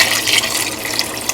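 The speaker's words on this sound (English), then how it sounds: "I'm going to put water in this to finish it off" Water from a tap pours steadily into a pot of stewed white acre cream peas with okra, a close, loud, continuous splashing rush.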